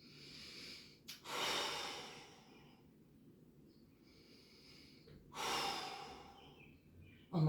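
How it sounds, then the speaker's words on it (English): Slow, deep breaths during a vinyasa yoga sequence moving through warrior 2, lizard and pigeon poses, two long audible exhales heard close and quiet against a near-silent room. "And then I get 2 breaths here."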